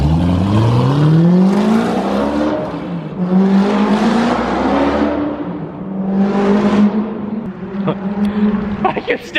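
A straight-piped BMW M3 roars past, its loud, raw exhaust swelling and fading in waves as the car drives by, with a faint voice underneath.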